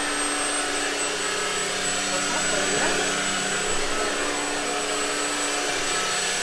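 An Ultenic vacuum cleaner runs under a piece of furniture with a steady, loud motor whine and airflow roar holding a constant pitch throughout.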